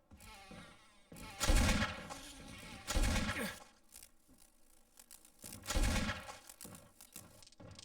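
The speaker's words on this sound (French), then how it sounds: "C'est chiant d'utiliser mes balles de magnum pour ça" Magnum revolver shots in a Resident Evil video game: three loud, booming blasts spaced a second or two apart, each with a short ringing tail over a quiet background.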